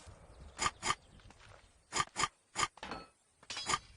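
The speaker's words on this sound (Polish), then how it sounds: "ja mam mikrofon przy myszce, więc to słychać i przy klawiaturze, więc pewnie jak coś klikam, to to też słychać" Computer mouse clicks picked up by a nearby microphone during a Stronghold multiplayer game, sharp paired clicks repeating in quick bursts over a quiet background.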